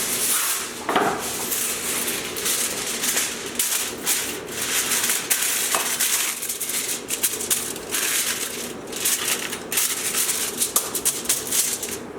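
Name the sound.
Reynolds Wrap aluminum foil being pulled and torn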